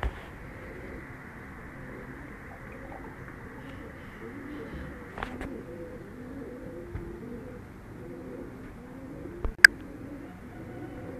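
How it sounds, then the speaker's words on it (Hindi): A flock of rooftop pigeons coos softly and steadily in the background, joined by a few sharp clacks or wing flaps now and then. "कबूतर ऊपर जा रहे हैं जी माशाल्लाह।"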